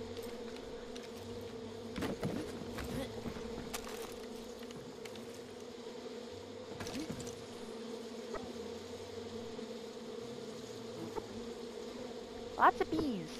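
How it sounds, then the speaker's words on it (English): Continuous humming buzz of a swarm of bees in the video game Far Cry 5, steady throughout with a few short sharp game sounds breaking in. "Lots of bees."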